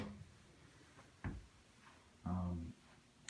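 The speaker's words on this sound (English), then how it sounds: "The drawers are kind of loud." A loud, self-closing KV side-mount drawer shuts with two separate solid thumps, close by, in an otherwise quiet room.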